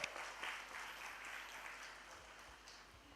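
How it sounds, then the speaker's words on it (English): A live event audience applauds a Miss World Bangladesh contestant, steady dense clapping heard faint and distant throughout, with a few sharper claps near the start. "a big clap for her from everyone"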